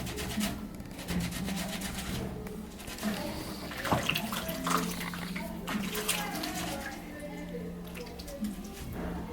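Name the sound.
rinsing a makeup brush under running water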